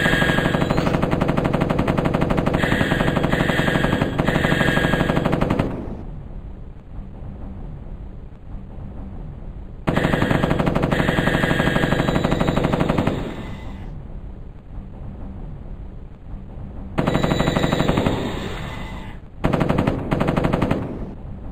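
An M60 machine gun fires in the 1995 video game Mortal Coil: Adrenalin Intelligence, three long, loud rapid bursts split by short pauses, then a final shorter burst.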